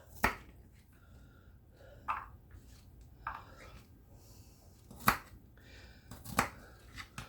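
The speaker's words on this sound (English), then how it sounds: "we're going to cut the garlic up." A knife chops garlic cloves on a board with a handful of separate, crisp cuts spaced a second or more apart, close and fairly quiet, no voices.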